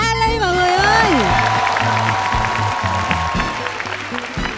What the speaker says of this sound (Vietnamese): Vỗ tay cho Ali mọi người ơi.